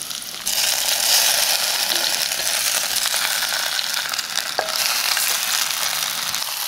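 Pork hock sizzles steadily in hot oil with fried shallots as a utensil stirs and scrapes through it, with a brief metallic clink partway through.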